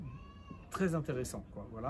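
A cat gives a brief, thin meow at the start, quickly covered by someone speaking French in an interview.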